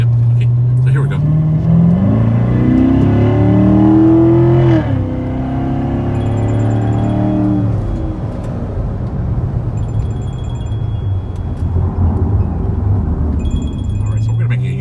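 A 2015 Chevrolet Corvette engine revs hard during spirited driving, climbing in pitch through several strong pulls and then settling to a lower, steady drone as heard from inside the car.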